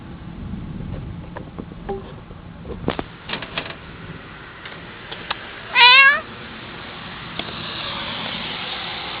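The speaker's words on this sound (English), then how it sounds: "I feel sorry for this cat. He's stuck out here in a severe storm." A cat outdoors during a severe storm gives one clear, close meow amid faint scattered background noise and a low wind-like rush.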